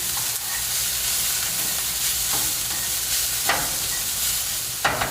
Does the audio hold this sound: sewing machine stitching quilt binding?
no